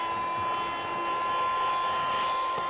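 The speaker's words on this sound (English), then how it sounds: "we get a vacuum cleaner as well." Small vacuum cleaner for model railway scenery sucking up loose static grass fibres, a steady close whining drone with a high constant tone running throughout.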